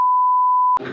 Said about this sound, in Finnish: Tässä on paljon piippiä tässä videolla